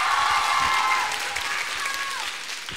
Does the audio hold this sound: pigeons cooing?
no